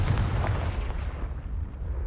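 Fiery blast from a Confringo spell in the Hogwarts Legacy video game, a loud booming explosion with a crackling rumble that decays over about two seconds.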